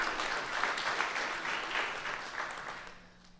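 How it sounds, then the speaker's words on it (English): An audience at a tech event claps warmly for several seconds, a dense wash of hand claps that gradually thins and fades out at the end. "You should clap."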